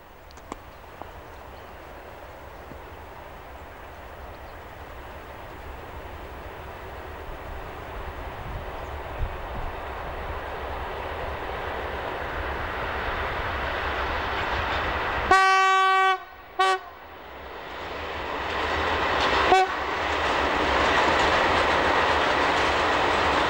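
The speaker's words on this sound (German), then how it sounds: "Jetzt neue E-Loks auf alten Gleisen. Hier in der Steigung vor Hüttenrode." A new electric locomotive climbs the incline before Hüttenrode on the Rübelandbahn, a steady rising rumble of the train growing louder, with a short horn blast around the middle and another brief toot soon after, no voices.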